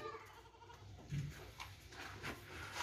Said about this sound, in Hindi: बिल्कुल ज़बरदस्त बकरी है